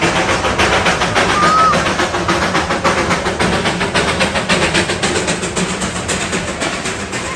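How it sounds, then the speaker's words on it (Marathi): A toy train on the Darjeeling route rumbles past with a steady rhythmic clatter of wheels, loud and close, continuous throughout. "आमच्या डोळ्यासमोरून आम्हाला ज्या ट्रेनमध्ये बसायचं होतं ती सुद्धा जाताना दिसली आणि मनूला ती बघूनच इतकी मजा आली"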